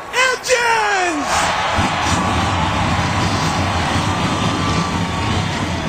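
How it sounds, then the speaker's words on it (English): NASCAR stock car engines firing up in a SEGA racing video game, a voice announcing at the start, then a broad, sustained roar of many engines building and holding at close range. "Gentlemen, start your engines!"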